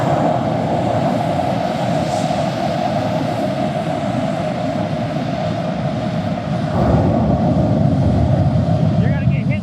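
Aircraft engines run steadily and loudly on the ramp at a regional airport during a hot refuel, a constant droning roar with a slight swell near the end, and no voices break through it.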